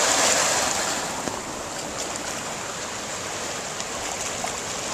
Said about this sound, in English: We actually have waves in the bay.